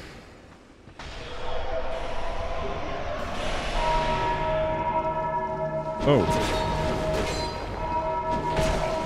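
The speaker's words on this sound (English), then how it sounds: "there's something going on with these bells" Deep, resonant bells ring out in the video game Dark Souls 2, several long tolls layered and sustained with a sharp new strike midway, loud and close, while a player briefly exclaims.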